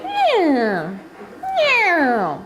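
A human voice imitates a dog's stress vocalization with two loud, close, drawn-out calls. Each one starts high and slides downward in a whine-like moan, with a short pause between them.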